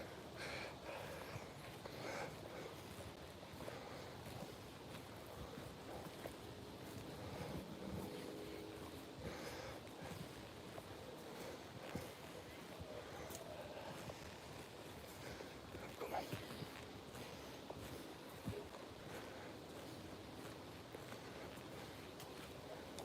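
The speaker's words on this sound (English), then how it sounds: "It's like wind's picking up down here." Wind blows outdoors, a steady broad rush that gusts over more than twenty seconds with some buffeting on the microphone and no clear voices.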